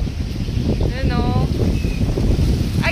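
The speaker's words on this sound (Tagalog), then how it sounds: "grabe, lakas ng hangin" Strong wind gusts roar across an outdoor microphone, a steady loud rumble throughout, with a voice briefly audible under it.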